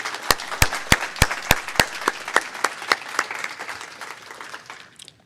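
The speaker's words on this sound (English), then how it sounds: "Let's have a round of applause for all of our generous sponsors." An audience at a morning panel event on Maine's labor shortage applauds sponsors, with sharp individual claps standing out at first, then thinning into a softer patter before fading out.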